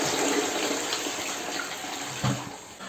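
Toilet flushing through a homemade bottle-and-detergent foam device, a steady rushing gush of water running close and continuous throughout, with a brief splashy surge near the end.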